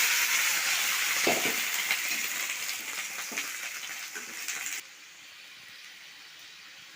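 Grapes poured into a hot pan with black cumin sizzle and hiss loudly for several seconds, then the frying abruptly drops to a quieter, softer sizzle.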